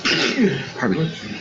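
A single close, sharp sneeze bursts out in a meeting room during a board meeting, loud and abrupt, with a brief breathy tail.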